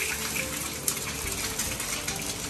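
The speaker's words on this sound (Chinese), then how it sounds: "打入鸡蛋" Eggs hit a hot wok while it is being used to stir-fry noodles, giving a loud, continuous hiss and sizzle with a few small crackles throughout.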